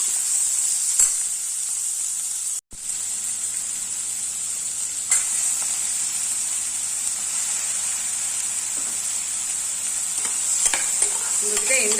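Chopped carrot, beans, broad beans and brinjal sizzle steadily in a hot pan while being stirred, with a continuous frying hiss, a brief dropout early on and scattered scraping clinks of the spoon, no talking.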